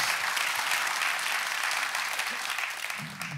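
A church audience claps steadily, a dense continuous patter of many hands that holds loud and then starts to thin toward the end.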